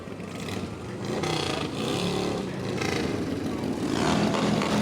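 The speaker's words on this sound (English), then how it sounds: "Some more motorcycles coming." Motorcycles roll past in a fall fair parade, the Tashot First Nation Motorcycle Brigade, making a loud, steady engine drone that swells toward the end, with faint voices underneath.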